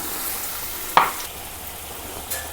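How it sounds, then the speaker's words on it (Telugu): A curry of okra and raw prawns sizzles in a pan with one sharp scrape or clank of a stirring spoon and a softer touch later, near and fairly loud. "ఇప్పుడు ఒకసారి కలుపుకుందాము."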